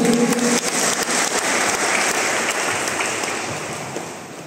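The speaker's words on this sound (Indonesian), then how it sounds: "Tepuk tangan dulu" Catholic charismatic prayer group congregation at a parish in Sudiang applauding together, a dense steady wash of many hands clapping that fills the space and slowly eases off toward the end.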